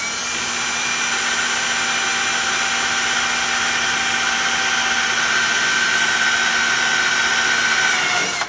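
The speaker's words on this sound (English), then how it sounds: "And you'll feel the drill pop through." A power drill bores steadily through a boat's metal gimbal ring around the bolt hole pattern, giving a loud, continuous whine for about eight seconds that stops abruptly as the bit breaks through, with no talk.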